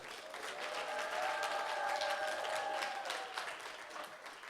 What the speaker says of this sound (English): give a strong round of applause for Baba Akbar Imhotep